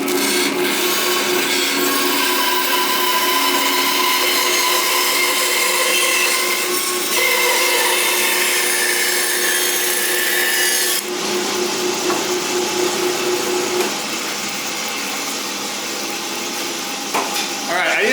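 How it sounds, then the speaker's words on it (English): A bandsaw roughly cutting out a wooden body for a Hondo Paul Dean guitar: a loud, continuous close-up rasping whine that holds steady for many seconds, changes tone partway through, then eases as the cut ends. "So what I'm going to do with the bandsaw is I'm going to roughly cut that out"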